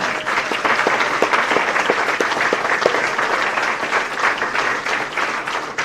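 An audience applauds distinguished alumni at a university event, a full, steady wash of many hands clapping, loud and sustained for several seconds.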